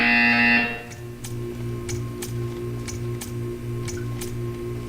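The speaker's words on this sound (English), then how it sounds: "You will hear a buzzer. When you hear the buzzer, stare at the art." A loud buzzer signal from the video game Portal 2 sounds in a short burst at the start, then gives way to quieter steady electronic ticking and clicking under a low hum.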